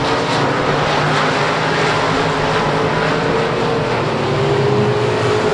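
A race car at the South Texas Shootout blasts down the back straightaway, a loud, steady engine roar that holds throughout with a slight pitch drift, no voices.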